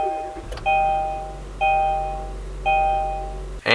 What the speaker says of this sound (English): Even the startup chime.